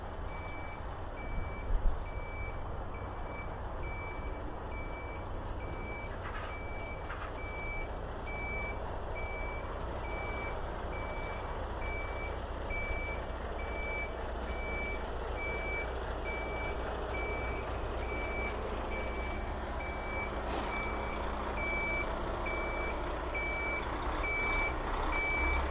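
Truck and trailer reversing into a gap, with a steady high reversing beep repeating throughout over a low engine rumble and a brief air brake hiss near the start, heard from a moderate distance.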